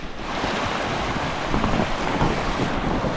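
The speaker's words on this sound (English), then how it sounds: "It is rushing water." Rushing water of a stream on a trail near the Eagle River Overlook, a loud broadband roar close by with a gusty, uneven surge, heard alone.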